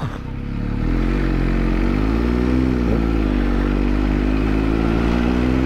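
A motorcycle ridden on a road in the Philippines carrying two riders: a steady, close engine drone with a low rumble and a faint rise in pitch, under constant wind noise and no speech.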